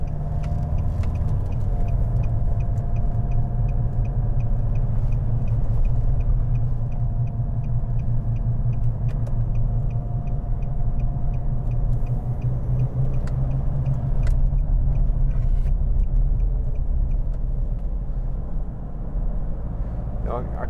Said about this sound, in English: I can't decide whether that's tyre noise or we've got a noisy wheel bearing